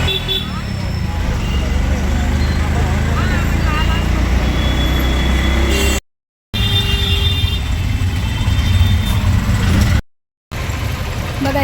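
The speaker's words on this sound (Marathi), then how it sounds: "बघा आता रिक्षात बसूया." An auto rickshaw rides through busy road traffic with a constant loud engine drone and passing vehicle noise, cut by two brief gaps, while people talk over it.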